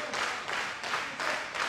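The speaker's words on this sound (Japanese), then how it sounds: "お客さんは拍手で選手に気持ちを送っています" At a NOAH pro wrestling match, the arena crowd claps in steady rhythmic unison, each burst evenly spaced and heard at a moderate distance, with no commentary over it.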